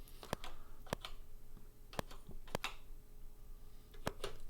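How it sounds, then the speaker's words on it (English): Keys on a CoCoSDC-era computer keyboard being pressed in a sparse, irregular pattern of sharp clicks, quiet and close, with faint background hiss and no talk. "So I'm playing with the keyboard right now."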